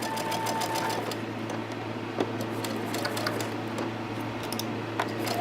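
A sewing machine stitches seams on a quilt block, running in a continuous close, steady whir with faint rhythmic clatter and a few small clicks from handling the fabric.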